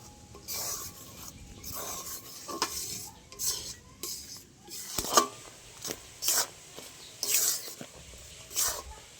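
Rice flour mixture is stirred continuously in a pan over low heat, giving repeated scraping and rubbing strokes of a spoon against the metal at a steady, close rhythm, with no voices.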